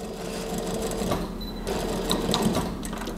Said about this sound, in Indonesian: ini saya jahitnya sampai ke bagian tadi yang terakhir jelujurnya itu ya